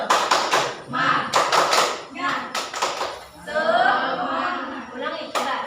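A group of people performs tepuk semangat in a classroom, rhythmic hand clapping in quick sharp patterns, with voices chanting and talking among the claps.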